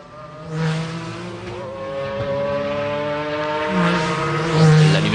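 Race car no. 25 driven by Manuel Reuter at the 1996 Le Mans 24 Hours, its engine droning and swelling with a steady harmonic whine, loudening toward the end.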